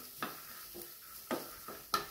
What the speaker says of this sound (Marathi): आता हे बीज आपण भाजून घेऊयात।